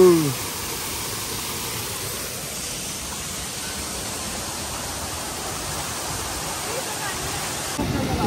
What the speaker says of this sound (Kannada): ಫುಲ್ ದೊಡ್ಡ ಫಾಲ್ಸು, ಫುಲ್ ಟಾಪಲ್ಲಿ ಹರಿತಾ ಇದೆ